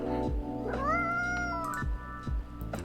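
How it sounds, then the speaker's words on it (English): A cat gives a single long, wavering meow up close over a constant machine drone with a few soft knocks. "Oh, poor kitty."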